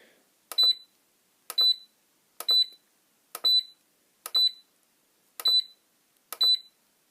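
A short electronic key beep from a Venom Pro-2 battery charger repeats seven times at steady intervals of about a second, clear and close against near silence.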